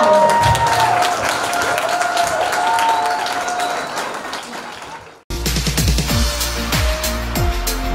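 An audience at a children's vocal group concert applauds, a dense wash of clapping and crowd noise that fades, then a louder burst of clapping with cheering follows.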